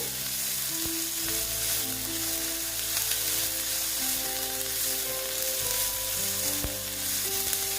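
Potatoes fry in a moderate amount of oil for a homemade egg chop, giving a steady, close, continuous sizzle throughout with no talking.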